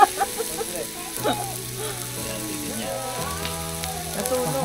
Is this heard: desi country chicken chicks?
no